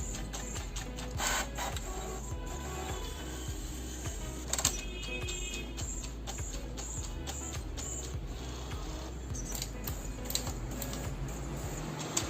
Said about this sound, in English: now we will start printer by giving a power cable in it